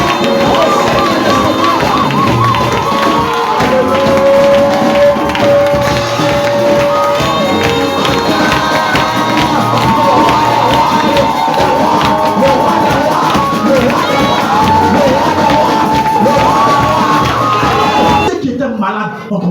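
Church congregation standing to cheer and acclaim during a charismatic worship service, a loud continuous crowd roar with shouts and yells layered over music and voices, ending abruptly.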